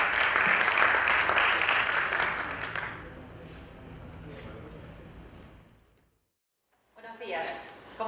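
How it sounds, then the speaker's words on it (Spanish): A conference audience welcomes a doctor speaking on open-access scientific journals with a burst of applause that is loud for the first few seconds, then fades into quieter room sound, a pause and a speaking voice. "Fuertes los aplausos."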